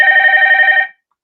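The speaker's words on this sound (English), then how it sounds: "No, answer the phone." A telephone rings once in a loud, close electronic trill that stops abruptly, leaving silence.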